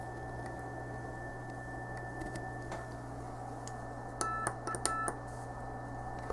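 A Pixie radio transceiver gives a faint, steady tone over a constant low electrical hum, with a short cluster of sharper beeps near the end.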